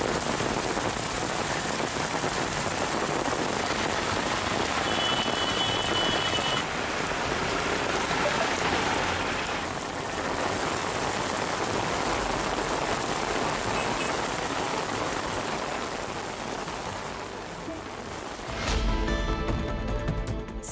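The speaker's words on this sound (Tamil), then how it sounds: "மானாமதுரை மற்றும் அதன் சுற்றுவட்டார பகுதிகளில் சுமார் 1/2 மணி நேரம் பெய்த மழையால் வெப்பம் தணிந்து" Steady rain pouring down for about half an hour in Manamadurai, a dense continuous hiss of drops hitting surfaces, loud and even throughout with a brief change in texture near the end; no voices.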